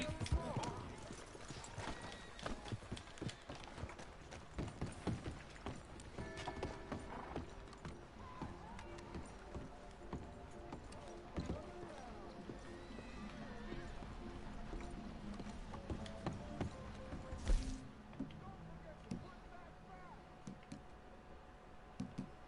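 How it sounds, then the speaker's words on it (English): Horse hooves clip-clopping in the open-world western game Red Dead Redemption 2, a rhythmic run of steps under game ambience and background sounds, with a brief louder hit partway through. "Hey! My horse!"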